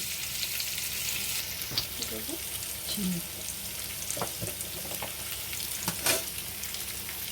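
Soybean masala frying and spluttering in hot oil, a steady broadband sizzle with scattered sharp pops and crackles, plus a few faint clinks of stirring, with no talking.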